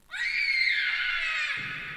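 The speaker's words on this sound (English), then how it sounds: "There's the child's scream." A child's high, sustained scream from the horror video game The Joy of Creation: Story Mode, loud and close, holding for about a second and a half before cutting off abruptly.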